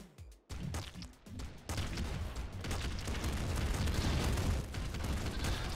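Love Bomber weapon firing in Nuclear Throne Ultra Mod: a few sharp bursts at the start, then a dense, sustained barrage of blasts and explosions that grows louder and keeps rumbling to the end.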